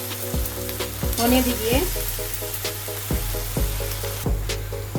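Ginger garlic paste masala sizzles and fries in a pan for Kolkata-style chicken biryani, with a steady sizzle broken by several sharp scraping stirs, while someone speaks briefly.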